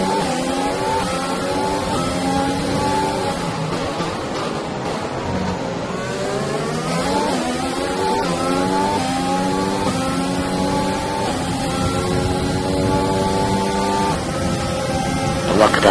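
Formula 1 race cars in the F1 2020 video game at the Azerbaijan Grand Prix scream past on the final lap, with layered high engine whines rising and falling through gear changes, loud and continuous under a commentator's voice.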